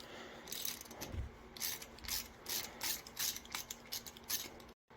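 Ratchet clicking in quick, uneven bursts while a bolt is backed out of a 2008 Jeep JK axle fitted with a Ford F-250/F-350 one-ton axle shaft; close and fairly loud, with brief pauses between strokes.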